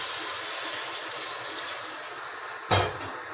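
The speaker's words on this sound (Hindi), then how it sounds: "ये देखें जी पानी इसमें हमने डाल दिया" Water is poured into chicken frying for biryani, producing a steady hiss with a brief louder splash burst near the end.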